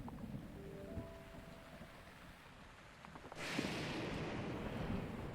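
Steady rain hiss in The Legend of Zelda: Breath of the Wild, quiet and noisy at first with a faint held tone, then swelling into a louder, fuller downpour wash for the last couple of seconds.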